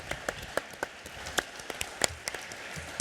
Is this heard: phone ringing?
no